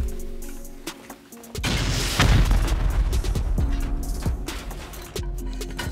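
A rocket detonation in a raiding shooter game, a heavy boom that bursts in partway through and rolls into a long, loud rumble, with scattered sharp impacts before and after it and no speech.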